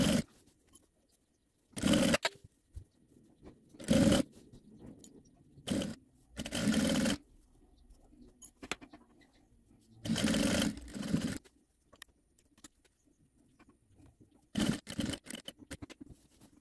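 A sewing machine stitches a straight hem on a tablecloth with mitred corners and bias-binding trim, running in several separate loud bursts of steady whirring with quiet pauses between them, no talking.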